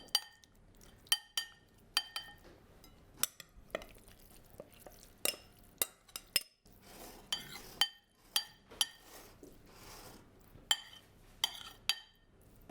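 Metal utensils scrape and clink against a baking dish as meat sauce is spread across the bottom for a Dukan-style moussaka, a run of sharp, close taps and scrapes at an uneven rhythm with quiet gaps between.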